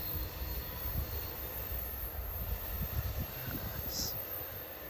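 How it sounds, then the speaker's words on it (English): Amtrak Capitol Corridor passenger train, led by CDTX locomotive #2123 and cab car #8302, rolls by on the rails at night with a low continuous rumble, a faint metallic wheel squeal rising briefly toward the end. "there goes your westbound train, Capitol Corridor train 744 to San Jose Diridon station"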